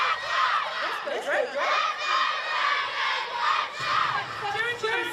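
A crowd of spectators cheers and shouts continuously at a women's rugby match, with rising and falling waves of loud voices and whoops.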